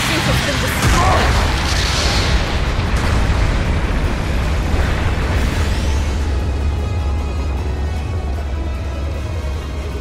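A mobile suit blowing up in a video game, a loud, dense roaring blast that fills the whole clip and slowly thins out, with a voice partly mixed in.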